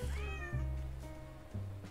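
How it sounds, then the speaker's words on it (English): A cartoonish kitten meows repeatedly in the video game Hidden Cats in New York, three or four close, clear mews over soft game music with no talk. "And there's a kitten on this boat"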